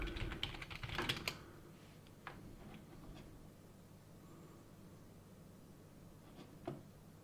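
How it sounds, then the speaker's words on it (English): Someone types a quick message on a computer keyboard in a rapid, close flurry of clicking keystrokes at first. The taps then thin out to scattered, fainter key presses over a low room hiss, with no talking. "I will type a quick message."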